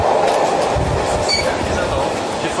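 Train rolling on rails heard from inside the carriage, a loud continuous rumble with rhythmic clatter, steady throughout the short stretch.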